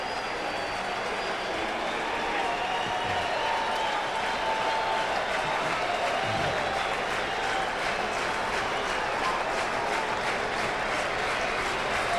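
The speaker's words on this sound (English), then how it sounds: "The crowd is on its feet." Baseball stadium crowd at a 1990 Chicago Cubs versus Houston Astros game, a sustained roar of cheering and applause from a large audience, steady and broad, rising slightly at moments.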